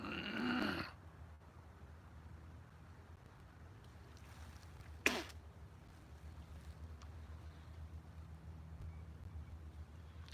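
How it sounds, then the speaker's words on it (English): A person snoring in the same house, heard faintly and far off as a low, breathy rumble under steady background hiss, with one sharp brief noise partway through. "he can hear him snoring"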